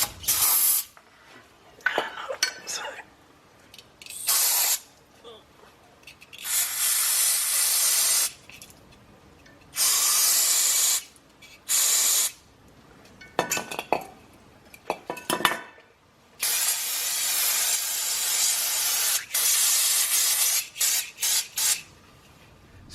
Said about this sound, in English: Some brake cleaner, and then polish it up a little bit with some sandpaper